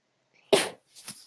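A single sharp sneeze bursts out once, close and fairly loud, with a softer breathy sound trailing after it in an otherwise quiet room.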